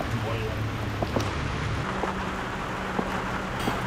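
Rain falls steadily during a walk back to a Danube river cruise ship in Austria, a continuous broad wash of patter with voices talking over it.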